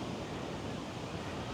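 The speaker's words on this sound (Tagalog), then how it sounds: "Apakalakas lang talaga ng alon." Loud, steady roar of strong surf at Pagudpud with continuous broadband rushing, waves crashing without clear breaks, like standing close to a rough shoreline.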